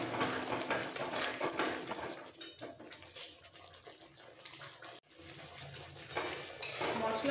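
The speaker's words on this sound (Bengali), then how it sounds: "এবার সব একসাথে একটু কষিয়ে নেবো।" Spinach and chicken masala being stir-fried in a pan, with a utensil scraping and clattering against the metal over a soft sizzle, continuous and close with brief pauses.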